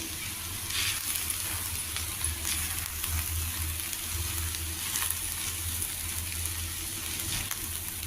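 Spinach and moong dal curry with homemade sesame chili powder is stirred in a pan, giving a steady, close sizzle and soft frying hiss with faint scraping, continuous and without speech.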